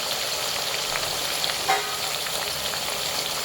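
Chicken pieces frying in hot oil give a steady, close crackling sizzle that runs the whole time, with one brief louder pop partway through and no voices.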